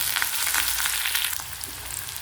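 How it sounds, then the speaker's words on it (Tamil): Thin-sliced onion fries in hot oil with spluttered mustard seeds and lentils for rava kichadi, a dense, close crackle and hiss with scattered sharp pops throughout. "அதையும் போட்டு நல்லா ஃப்ரை பண்ணிக்கணும்"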